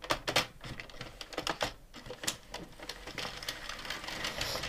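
An Addi knitting machine is cranked around to make I-cord rounds, giving a quick run of close mechanical clicks and clacks in an uneven rhythm, loudest at the start and continuing without a break.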